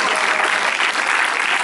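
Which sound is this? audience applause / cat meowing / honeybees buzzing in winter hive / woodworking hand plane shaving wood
audience applause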